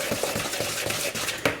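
Spoon stirring cookie dough mixed with acacia honey in a bowl, a run of quick, close, soft knocks and scrapes in an irregular rhythm, with no voices.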